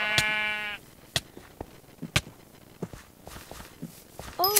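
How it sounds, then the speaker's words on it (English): A sheep bleats in the Minecraft Hypixel server, a clear wavering call at the start followed by scattered footstep-like clicks and thuds, with a short higher bleat near the end. "sheep spawning just for me because for some reason no one else is taking them"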